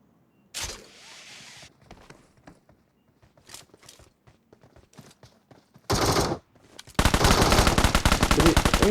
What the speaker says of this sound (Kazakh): Мен жақта 2 адам бір-бірімен атысып отыр.